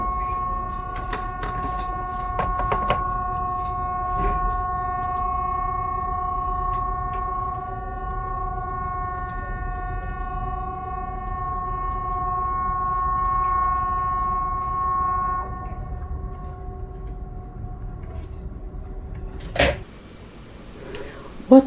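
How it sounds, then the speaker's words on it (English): Swedish public warning siren sounding the Important Message to the People signal, a steady tonal wail held for about fifteen seconds and heard at a distance over background noise, followed by a brief clatter. "What you just heard is an alarm system that is done"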